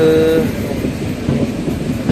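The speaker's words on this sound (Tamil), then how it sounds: "இந்த ட்ரெயினுக்காக தான் நம்ம ட்ரெயின் வெயிட் பண்ணிட்டு இருந்தோங்க" The Venad Express passenger train, running from Thiruvananthapuram to Shoranur with Antyodaya coaches, rolls past with a loud, close, continuous rumble and clatter, and a brief horn tone at the start.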